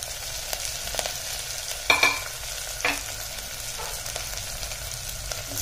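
Green chillies and curry leaves with onions being stirred in a frying pan for dahi tadka, a low continuous sizzle broken by a few sharp spoon scrapes against the pan, close and quiet, no talking.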